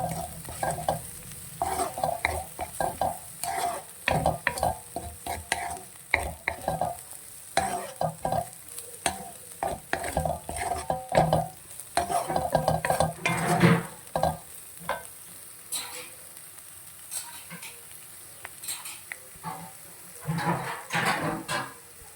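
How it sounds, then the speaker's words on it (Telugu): Broccoli and paneer frying in a pan with chilli powder, constant sizzle broken by frequent stirring scrapes and clatters of the spoon, close and continuous with no talk. "కొంచెం కారం పచ్చివాసన పోయేంత వరకు కొంచెం ఫ్రై చేసుకొని స్టవ్ ఆఫ్ చేసేసుకోండి"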